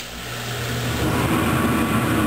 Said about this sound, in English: Now I gotta turn that noisy ass exhaust fan back on.